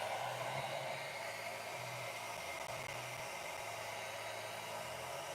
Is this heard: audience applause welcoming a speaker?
no